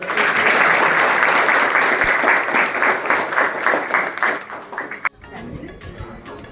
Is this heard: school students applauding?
yes